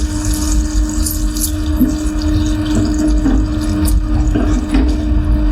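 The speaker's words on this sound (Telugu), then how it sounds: "గ్రేవీ కోసం ఒక గ్లాస్ టీ గ్లాస్ వాటర్ అయితే పోస్తున్నానండి" Water pours steadily into a pan of tomato egg curry gravy with a continuous liquid gurgle and splashing, close up, with a low hum underneath.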